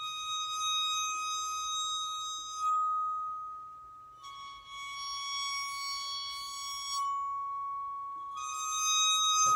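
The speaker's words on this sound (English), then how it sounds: "I play some kind of siren-like sounds on this" Metal bars bowed with two bows at once ring out in long, sustained, piercing tones that swell and fade in waves, resembling a distant siren.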